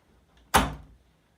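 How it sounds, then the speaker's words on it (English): A door flung open in a read-aloud children's story, one sharp close knock or clack followed by a brief fading rattle, alone in near silence. ""Oh, yes, they do," said Sir Charlie as he flung open the door."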